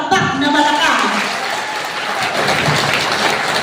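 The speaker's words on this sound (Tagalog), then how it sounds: "Isang palakpak na malakas." Loud applause from a Cabiao High School batch '75 reunion audience breaks out at once and holds as a dense, steady wash of clapping, with a speaker's voice heard over it at the start.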